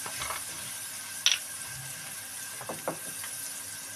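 Spice masala with tomato roasting in a pan for an eggplant curry gives a low, steady sizzle, with a few brief clinks of stirring against the pan partway through.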